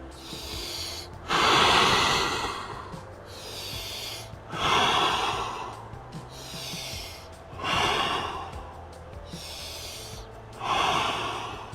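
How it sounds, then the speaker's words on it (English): Deep cleansing breaths taken during an exercise workout, four long audible inhale-exhale cycles spaced about three seconds apart, close and fairly loud with no talking. "let's take 5 cleansing breaths down here"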